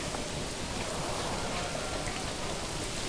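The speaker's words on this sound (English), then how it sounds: "It's pouring absolutely torrential downpour rain" Torrential rain pours down in the medieval city-building game Manor Lords, a dense, steady hiss of downpour at moderate volume with no break and no voices.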